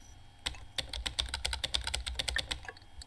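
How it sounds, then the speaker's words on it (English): Fast, clattering keystrokes on a computer keyboard rattle off in quick, uneven bursts, close and fairly quiet, with no talking. "It's like sliding against the keyboard. Can't just type like a normal human?"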